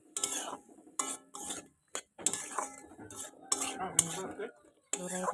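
Sliced papaya (amita) being stirred with salt, small chillies and khar in a metal pan, a utensil scraping and clinking in short repeated bursts with brief pauses between strokes, close and moderately loud, with no talking.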